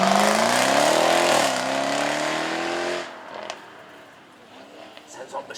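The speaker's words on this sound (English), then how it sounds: "Lovely to hear that supercharged V8 snarling its way down the Beaulieu main straight here" A supercharged V8 supercar snarls down the Beaulieu main straight, a loud rising engine note that holds for about three seconds and then cuts away, leaving faint background noise.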